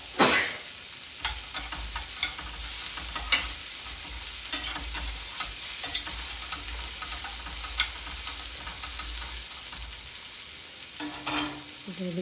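Carrots, beans and potato being stirred in a frying pan, a steady sizzle with scraping spoon strokes throughout, close and clear with no talking.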